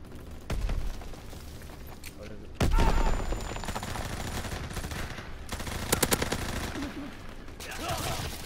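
Video-game gunfire from an Orso SMG, broken bursts of automatic shots recurring through the clip over a busy, dense backdrop of game sound, with a voice talking over parts of it.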